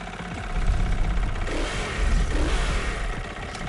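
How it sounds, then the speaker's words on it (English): KTM 450 motorbike engine in the racing game The Crew Motorfest, revving hard in loud, sustained surges that swell and fall back twice, with no talk over it. "Now that is the sound of the KTM 450 motorbike that you can actually play in the game."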